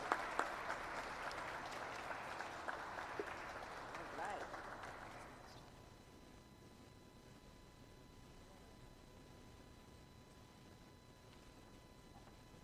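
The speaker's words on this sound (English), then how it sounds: "can we give another big round of applause" Applause from a crowd at a youth summit in a state house fills the first half, dense and steady, then fades out, leaving quiet room noise.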